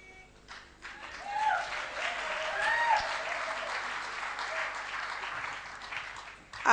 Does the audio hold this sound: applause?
yes